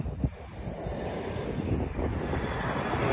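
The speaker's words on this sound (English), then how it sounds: "There you go, private jet on its way out." A private jet flies overhead during a breezy riverside walk on the Upper Lea Valley Walk between Luton and Harpenden, a steady, fairly distant broadband roar that holds throughout and mixes with gusty wind noise on the microphone.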